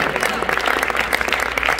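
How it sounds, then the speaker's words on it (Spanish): A church congregation claps in praise during a service, a steady patter of many hands close and lively throughout, with faint voices underneath. "Alguien dé palmas de alabanza."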